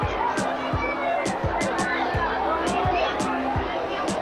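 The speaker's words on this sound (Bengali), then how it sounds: "প্রচুর ভিড় দীঘা স্টেশনে এই সময়।" A dense crowd bustles at Digha railway station in West Bengal, a steady babble of many voices with repeated low thumps and clatter close by, while a person talks over the din.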